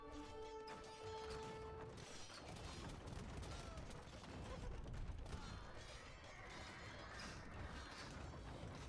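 Hand cannons firing in an Age of Empires match, a faint scatter of gunshot cracks and mechanical clatter buried under steady background game noise.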